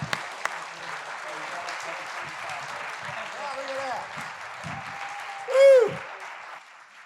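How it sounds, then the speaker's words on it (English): Applause from an event audience at an evening gathering honoring triathlon champions, a broad wash of clapping mixed with voices and some speech in the room. "How about a round of applause for Alistair Brownlee, Dave Scott, Mark Allen."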